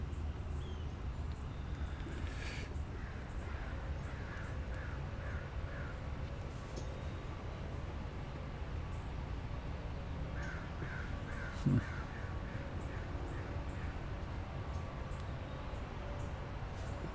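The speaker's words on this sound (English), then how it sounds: "There's crows happening in mine." Crows cawing in short repeated bursts of several calls, fairly distant, over a steady low background rumble with no talk.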